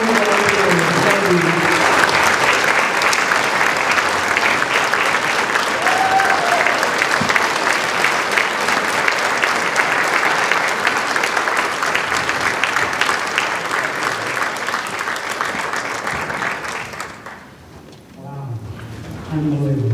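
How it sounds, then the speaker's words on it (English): A crowd at a high school hall of honor induction applauds an inductee, loud sustained clapping that fades out near the end before a voice begins. "let's all honor Tom by giving him a round of applause as he comes up"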